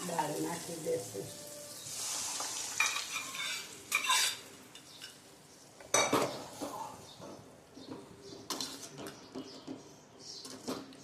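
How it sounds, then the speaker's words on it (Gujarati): Dal being stirred and fried in a pan for a Gujarati dal fry, with steady sizzling under a spoon scraping and clinking against the metal pan in irregular bursts, fairly close. "ખાલી 2 જ મિનિટ એને આપણે ફેરવી લેશું"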